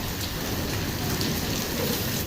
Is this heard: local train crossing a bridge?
no